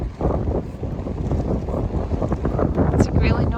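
Steady, heavy wind off the ocean buffets the microphone with a low roar, gusting continuously throughout, on the Camino de Santiago.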